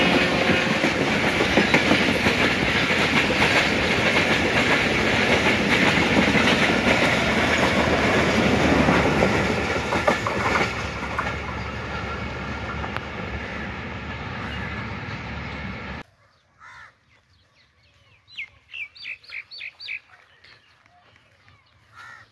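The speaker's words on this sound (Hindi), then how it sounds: "अब पाकिस्तान एक्सप्रेस मनक्याला रेलवे स्टेशन के पास हो रही है" Pakistan Express passes close by near Mankiala railway station, roaring with rhythmic clickety-clack of wheels for about fifteen seconds, then cuts to quiet with a few faint chirps.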